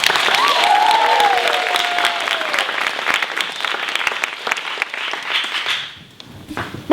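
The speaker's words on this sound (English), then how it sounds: "let's get a start with the round of applause" Audience applause from a live comedy stage show, a dense steady clapping wash that stays loud for about six seconds before thinning out near the end, with brief voices briefly audible within it.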